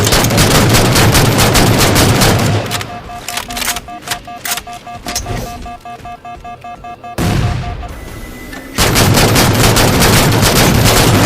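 DMR rifle fire in the Halo 4 multiplayer match on Haven, loud rapid sharp shots in tight bursts at the start and end, with quieter in-game sounds and a steady tone in between.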